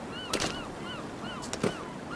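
Bird calls in the forest of Sons of the Forest, a pair of short honking cries repeated twice, moderately close, with faint chirping behind.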